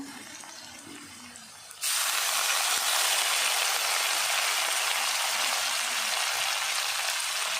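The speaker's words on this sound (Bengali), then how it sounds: "এই যে পেঁয়াজ ভাজা করতেছি" A loud, steady sizzle of onions frying in hot oil starts abruptly and continues without a break, after a short stretch of quieter background noise.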